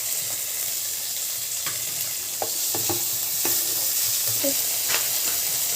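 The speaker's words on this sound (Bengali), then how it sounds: "আর একটু কাঁচা লঙ্কা দিয়ে এটা আমি ভালো করে ফ্রাই করব।" Onion, garlic, green chili and chopped vegetables fry in a pan with a steady, close hiss. Occasional light clicks of a spoon against the pan sound over the sizzle.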